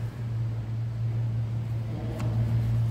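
A 1962 Ford Thunderbird engine idles with a steady low hum, running smoothly and continuously nearby, with a brief higher whine partway through.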